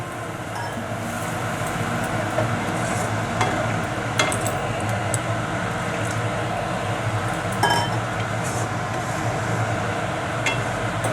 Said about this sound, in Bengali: এখন আমি পরিমাণ মতন জল দিয়ে দেব।